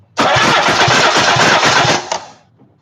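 A 1991 Mazda Miata engine cranks on the starter during a compression test, a loud, steady churning with an uneven pulsing rhythm that runs for about two seconds before cutting off and fading.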